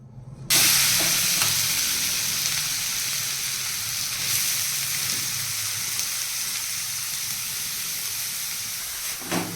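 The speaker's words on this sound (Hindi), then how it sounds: "अब यहाँ कद्दूकस की हुई गाजर अपन कढ़ाई में डालेंगे" Grated carrots tipped into hot ghee in a kadhai over a medium flame burst into a loud, steady hiss and sizzle that persists close up, with faint stirring scrapes and no speech.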